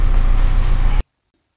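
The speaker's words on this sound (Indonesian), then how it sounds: "nyalakan mesin kendaraan sampai mencapai temperatur kerja" A vehicle engine runs steadily at idle while warming to operating temperature before an exhaust emission test, giving a loud, continuous low rumble for about a second before it cuts off abruptly into silence.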